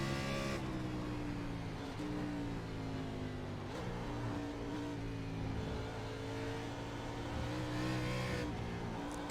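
A stock car races on a road course in iRacing, its engine droning steadily at high revs under load, with pitch rising and dipping through gear changes and corners. It stays loud and continuous throughout, with no talk.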